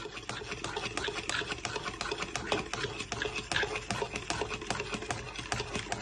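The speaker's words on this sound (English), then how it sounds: "Then with a fork, you want to give this all a good whisk." A fork whisks ketchup sauce in a bowl, rapid rhythmic tapping and scraping that runs steadily and close throughout with no talking.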